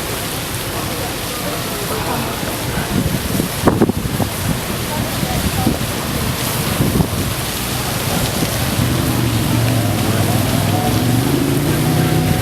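Steady wind buffets the microphone with a continuous rushing roar, a faint voice briefly audible beneath it.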